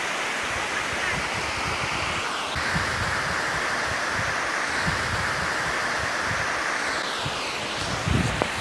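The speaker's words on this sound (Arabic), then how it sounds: "والآن نحن أمام شلالات جيرمو وسنصور لكم المشهد لتستمتعوا معنا." The Jermuk waterfalls in Armenia in snowy weather pour with a steady, broad hiss of rushing water, moderately loud and unbroken, with faint wind and scattered background activity.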